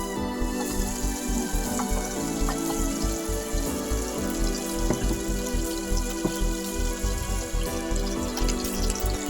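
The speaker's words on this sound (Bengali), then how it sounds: "চিংড়ি মাছটা হালকা করে ভেজে নিলাম" Prawns frying lightly in hot oil for a bottle gourd and prawn curry give a steady, dense crackling sizzle, close and continuous with no talk.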